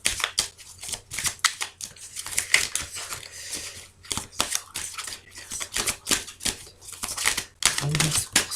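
Tarot cards shuffled and cut by hand in a steady, close-up run of crisp flicks and papery riffles, with brief pauses between bursts and no voice.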